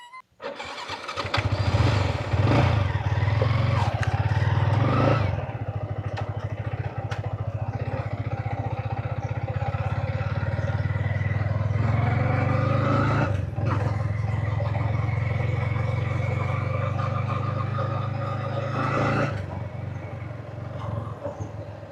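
A Yamaha MT-15 motorcycle starts and runs with a steady low engine drone for about twenty seconds, loud and close, with a few brief knocks and shifts in tone along the way.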